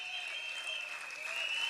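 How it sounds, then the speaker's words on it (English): A crowd applauds in their thousands at a political community meeting held at Arima North Secondary School, with a steady, fairly faint clapping wash that runs throughout, overlaid by a sustained high whistle-like tone. "Brothers and sisters assembled here in your thousands, give yourselves a round of applause"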